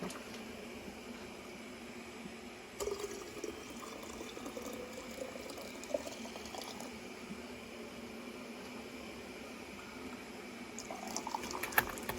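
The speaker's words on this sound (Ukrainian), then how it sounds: "Лопатку на бік, а води наливаю до самого верху." Water runs steadily into a glass jar of sugared redcurrant compote, filled to the top, a soft continuous gurgling fill with occasional small clinks and splashes, fairly quiet and close.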